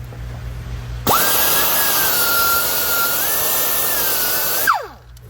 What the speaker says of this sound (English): I took the burr off because we didn't cut all the way through, and then we broke it off